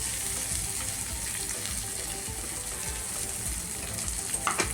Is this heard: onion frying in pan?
yes